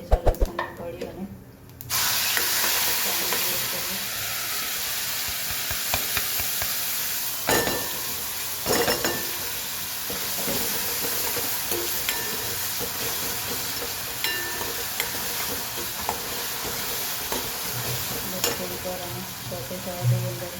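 Onion and garlic fry in ghee in a pan, giving a continuous close sizzle and hiss, with a loud clatter as they go in and then intermittent clinks and scrapes of stirring.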